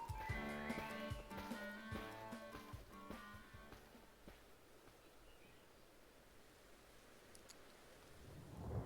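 A thunderstorm in Pokémon Legends: Arceus: the game's music fades into a hiss of rain, then a low rumble of thunder swells near the end, with no speech.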